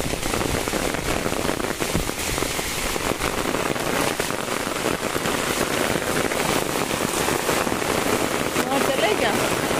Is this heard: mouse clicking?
no